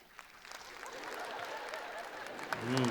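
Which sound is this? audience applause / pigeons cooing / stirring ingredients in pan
audience applause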